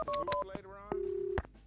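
Telephone dialing in Max Payne 2: a rapid string of short keypad tones, then one longer held tone, crisp and close, with brief clicks between, no talk over it.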